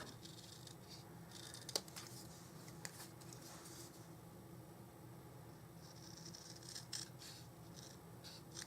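Scissors snipping around a swirl on a paper card made with Stampin' Up supplies, quiet, close intermittent cuts and small paper handling sounds over a low steady background hum, with no talk.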